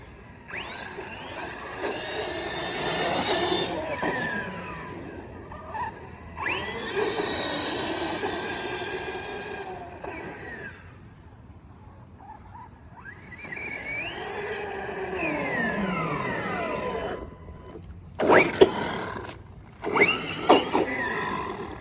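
Redcat Kaiju RC car on a fresh battery pack in a parking lot, its electric motor whining in repeated loud bursts with rising and falling pitch, separated by quieter gaps, then sharp clattering knocks near the end.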